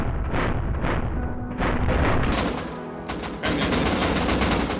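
Gunfire in the survival game Rust, a dense run of loud, rapid shots and booming reports across the whole stretch, with bursts overlapping and no talk.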